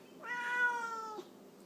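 A single drawn-out cat meow, clear and fairly close, lasting about a second against a quiet background.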